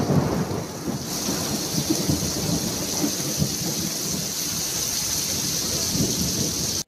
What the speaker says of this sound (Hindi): आज एत जोर से वर्षा है